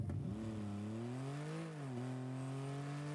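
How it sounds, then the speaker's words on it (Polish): The Dingo car's engine in Rocket League hums steadily and close, its pitch rising and dipping slightly as it revs, with no talking over it. "Dźwięk silnika też jest bardzo fajny."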